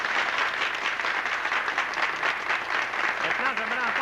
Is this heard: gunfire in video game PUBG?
no